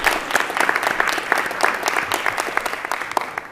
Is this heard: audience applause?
yes